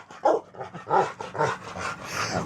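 A dog barks and yips excitedly in quick repeated bursts, close by and loud, with whiny tones between barks.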